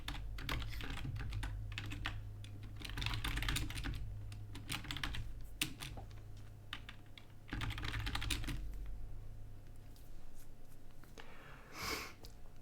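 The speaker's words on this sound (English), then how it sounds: "Oh, you're typing that right now, right?" Steady computer keyboard typing in bursts of rapid clicks with short pauses, close and moderately quiet, with a faint sniff near the end.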